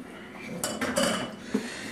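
A spoon stirs a warm stovetop mixture into a bowl of granola oats, giving a brief close scraping and clinking against the dish with soft rustling of the oats.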